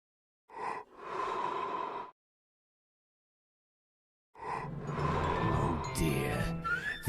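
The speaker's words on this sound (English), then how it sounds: "Take a big breath and blow." Big breaths blown out hard as a huff and puff, two long breathy blowing sounds close by, the second rougher and noisier with a whistling tone near its end.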